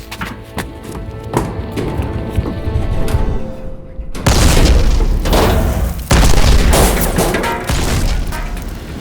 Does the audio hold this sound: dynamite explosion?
yes